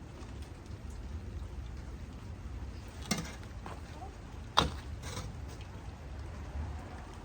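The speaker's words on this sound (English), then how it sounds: "it's really starting to rain" Steady rain falling outdoors around a zone 9b flower-growing patio, a soft continuous hiss of drops with a couple of sharper nearby splats or knocks standing out briefly.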